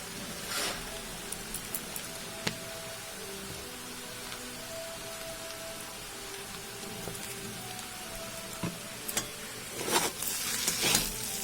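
Chow mein with soy sauce sizzles and crackles steadily in a frying pan, a close, rain-like hiss with scattered sharp ticks of stirring that grow busier toward the end.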